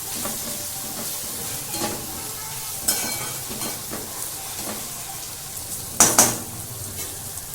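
Onion frying in a pan until browned, with cumin added: a steady close sizzle and hiss runs throughout, broken by occasional scraping stirs of a spatula against the pan, with no talking.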